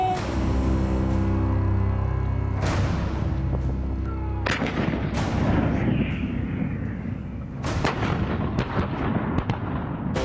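An Indian 105 mm field gun fires repeatedly, loud booming blasts with long rumbling decays spaced a few seconds apart, alone without talk.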